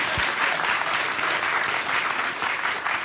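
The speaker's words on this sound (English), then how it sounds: "Clap if you're worried." A conference audience at a panel discussion about new media and the 2016 election claps steadily, a dense even wash of applause throughout with no speech on top.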